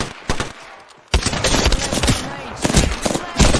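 Rapid gunfire from PUBG on Xbox, with bursts of automatic shots and sharp cracks coming thick and loud after a short quieter lead-in.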